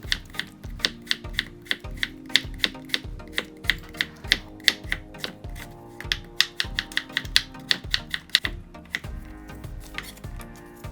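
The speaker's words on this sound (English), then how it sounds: "And cut it thinly." A knife slices peeled radish thinly on a cutting board for Korean water kimchi, a quick steady run of sharp, close chopping taps repeating about twice a second.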